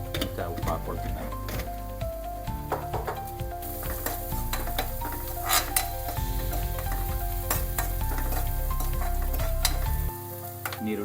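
Onions fry to a reddish brown in a pan for egg sambar, a loud, crackling sizzle with frequent stirring clatter, while a voice talks over it almost throughout.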